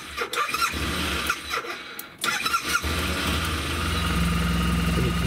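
A Suzuki Burgman scooter engine cranks with a few uneven bursts, catches around midway, and settles into a steady close idle hum with faint squealing tones.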